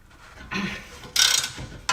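A wrench works an 18 mm nut on the rear suspension upper arm of a Jaguar S-Type under restoration, giving a few short metallic ratcheting clicks and a sharp crack as the nut breaks loose.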